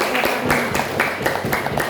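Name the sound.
audience clapping hands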